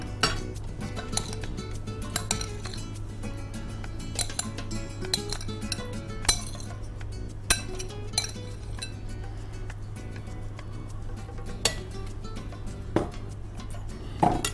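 Glass bowl of chicken salad being covered in a kitchen, with repeated sharp glass-on-glass clinks and light taps spaced irregularly over a steady low hum. The sounds are close and there is no talking.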